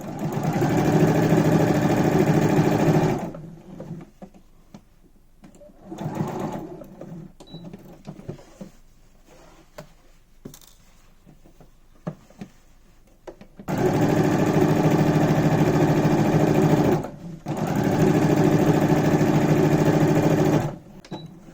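Vintage sewing machine stitching pattern dots for a Burda 1969 dress, heard up close and loud in steady whirring bursts, a long burst, a quieter gap with small handling noises, then two more sustained runs.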